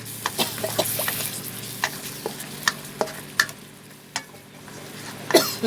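Coconut milk is stir-fried in a pan, close up. A soft, steady sizzle runs under repeated sharp scrapes and taps of a spatula against the pan, with a hen clucking faintly in the background.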